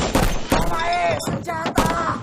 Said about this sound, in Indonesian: kau bunyikan dulu pistolmu ini, biar aku dengar suaranya